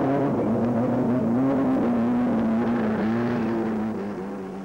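A race car circuits the track during practice at the 1988 South Australian Cup, its engine a loud, sustained drone with a steady pitch that shifts slightly as it runs, fading a little toward the end.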